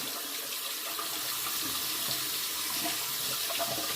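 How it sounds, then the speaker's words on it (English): Makeup brush rinsed under a running bathroom tap, a steady broadband splashing and hiss of water that runs unbroken and fairly close, with no voices. "And then I rinse my brush."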